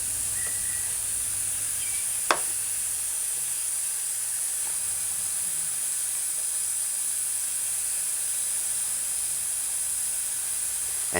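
A pressure cooker on a stovetop hisses steam in a steady, continuous high rush that holds for the whole stretch, with one brief sharp click partway through.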